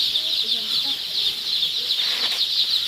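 Day-old layer chicks being placed in a brooder chirp in a continuous high, shrill chorus, steady and close, with faint handling noises beneath.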